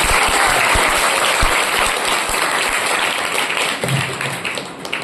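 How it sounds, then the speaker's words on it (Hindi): Audience applause at a school Teachers' Day ceremony in Salaiya, Madanpur, a loud, dense burst of clapping from a crowd that carries on steadily and thins slightly toward the end. "ताली बजाइए।"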